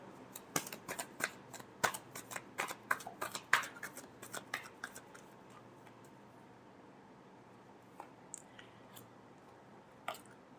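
Tarot cards are shuffled in quick, crisp riffles and flicks, busy at first and then thinning to a few scattered taps in a quiet room.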